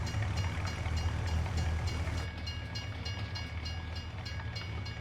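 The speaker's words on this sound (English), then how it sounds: "Oh, look at that little short train." A short train rolls past on the Slovak Village map in a farming video game, a steady low rumble of wheels and wagons that is loud at first and eases slightly after a couple of seconds, with no talk over it.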